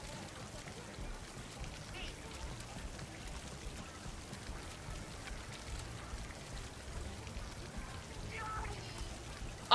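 Steady hiss of shower water running from a Splatoon game emote, continuous and moderately loud across the whole stretch, with a faint high chime near the end.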